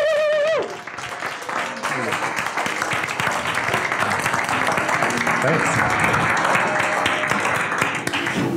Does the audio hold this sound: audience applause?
yes